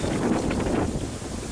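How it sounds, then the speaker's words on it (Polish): Strong wind gusting over a fishing lake at Łowisko Tuszynek, Poland, heard as a steady, loud, broadband rumble and buffeting against the microphone throughout, with no voices. "znowu wieje silny wiatr"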